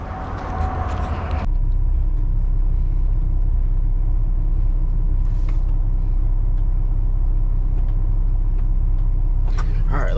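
A pickup truck engine starts and settles into a steady, loud low rumble, heard close up as the vehicle runs and pulls away, with brief clunks over the drone.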